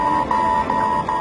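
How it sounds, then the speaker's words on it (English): A cockpit alarm warns of autopilot shutdown aboard an Aeroflot airliner, a steady electronic tone near 1 kHz repeating in short pulses with tiny gaps, loud and alone throughout. "an alarm begins to sound. It signals the complete shutdown of the autopilot"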